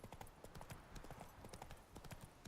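Horse hooves clip-clop in a quick, steady rhythm as a rider travels on horseback in The Witcher 3 video game, close and clear with no talk over them.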